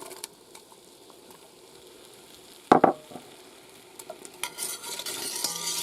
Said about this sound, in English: Add in my onions.